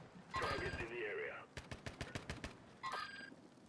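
Bursts of video-game gunfire ring out close and loud: a sustained volley, then a string of separate shots and another short burst, while players talk faintly in the background.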